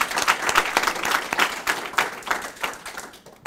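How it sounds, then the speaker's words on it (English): Audience applause at a university poetry reading, a sustained round of many hands clapping densely and fairly close, fading slightly toward the end. "I want everybody here to give a big round of applause."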